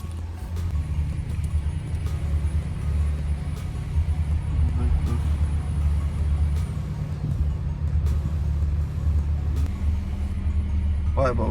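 A Peugeot 307 CC engine is started with a portable jump booster and then runs with a steady, loud, low rumble. A faint voice is heard in the background.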